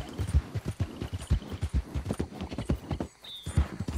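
Horse hooves clip-clop in a steady, close, even rhythm in a video game, with a brief high whinny-like tone partway through and faint talk in the background.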